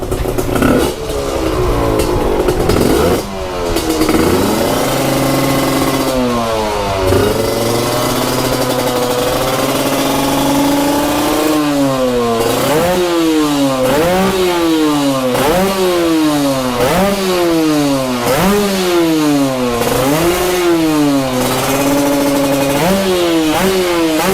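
A Yamaha TZM motorcycle with a big 62 mm bore revs its exhaust loudly and close by, starting with a few rough blips, then settling into a long run of rhythmic rising-and-falling throttle sweeps.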